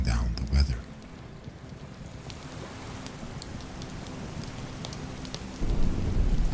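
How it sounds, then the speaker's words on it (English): Soft, steady rain patters against a small single-pane window nearby with scattered light taps, a low rumble swelling near the start and end. "the rain has picked up just a little. You can hear it tapping against the single small window pane"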